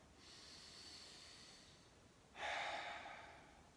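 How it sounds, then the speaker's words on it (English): A slow, deep breath taken close by: a soft, drawn-out inhale, then a sudden louder airy exhale that gradually fades. "take a deep breath"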